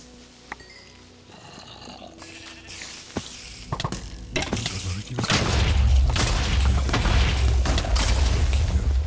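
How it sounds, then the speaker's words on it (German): Minecraft explosion from a modded game, a rumbling boom that swells and lingers with heavy low-end rumble after a stretch of clicks, footsteps and scattered knocks. "explodier doch."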